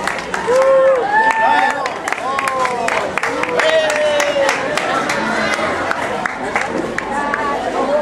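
A crowd at a marathon awards ceremony applauds the winners of the senior men's category, with steady clapping mixed with chatter and raised voices throughout.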